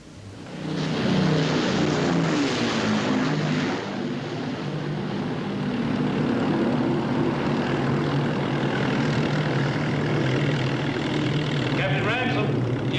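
RAF propeller aircraft droning overhead at night, a loud sustained engine roar that swells in within the first second and holds steady, with faint speech near the end.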